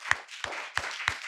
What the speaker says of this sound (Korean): 예, 큰 박수로 좀